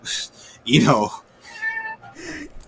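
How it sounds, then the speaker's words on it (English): A cat meows several times close by in short, bright calls, with a person talking around the cries. "Oh, now there's a cat."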